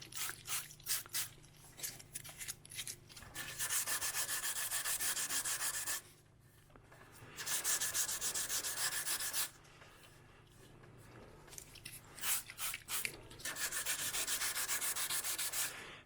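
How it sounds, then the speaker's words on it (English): Hand sanding of epoxy on a carbon fibre paramotor frame, done with fingertips on a curved surface: close, dry rubbing strokes in repeated bursts with short pauses between them. "So now we're going to go in and sand it until it feels nice and smooth."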